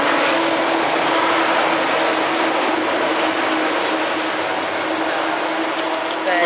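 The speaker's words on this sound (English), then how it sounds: "We'd like to thank that truck for coming by and making so much noise for us." A truck passes loudly outside a rock show, a heavy continuous engine rumble and roar holding steady throughout and dominating the scene.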